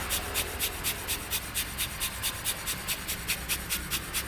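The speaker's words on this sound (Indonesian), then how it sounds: "Jadi kita pompa hingga mesinnya lumayan dingin, kita lanjut untuk mengetesnya." Hand pump pushing air to cool an OPPO A12 phone, a rhythmic series of soft puffing strokes at an even pace over a constant hiss of background noise.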